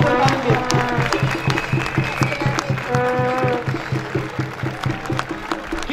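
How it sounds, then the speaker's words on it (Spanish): A crowd claps at the closing campaign rally of a city political coalition, with rhythmic applause mixed with loud music or chanting that has strong tonal bands. A voice is heard among the noise. "un fuerte aplauso a ellos"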